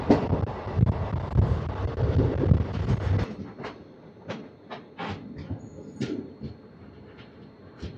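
The Visakhapatnam–Machilipatnam Express (17220) runs with a heavy rolling rumble that drops away after a few seconds, leaving sharp, irregular clicks and clacks of the wheels and carriages.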